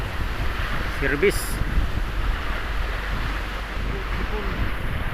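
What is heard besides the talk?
strong sea waves and wind at sea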